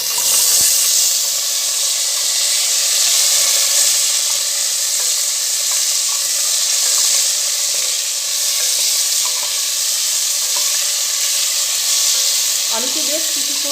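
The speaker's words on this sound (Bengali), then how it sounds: "আলুকে বেশ কিছুক্ষণ নাড়াচাড়া করে নেব।" Potatoes sizzle steadily in hot oil with dried chilli and five-spice seeds while being stirred in a pan, a loud continuous hiss with occasional scraping, ending in a brief clatter.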